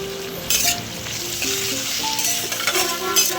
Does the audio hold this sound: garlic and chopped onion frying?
yes